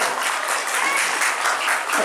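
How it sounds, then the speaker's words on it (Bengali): A crowd at a school's annual sports day claps loudly and steadily, a dense wash of applause with no pauses. "জোরে হাততালি দাও।"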